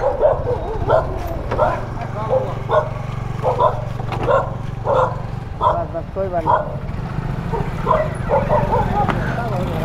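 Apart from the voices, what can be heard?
dog barking in the street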